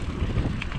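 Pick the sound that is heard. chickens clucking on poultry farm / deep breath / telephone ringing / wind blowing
wind blowing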